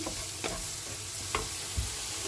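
Onion and green chilli frying in hot oil, a steady broadband sizzle with a few sharp stirring scrapes and knocks of the utensil, close and continuous with no talking.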